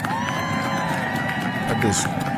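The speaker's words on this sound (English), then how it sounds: "Let's cheer for the men and women of USAID" Rally crowd cheering for USAID workers, a loud sustained roar of voices and whoops filling the space, steady throughout with a slight swell near the end.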